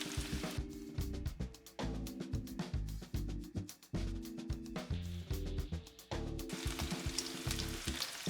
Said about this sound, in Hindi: 5 मिनट विंग्स को हम फ्राई होने देंगे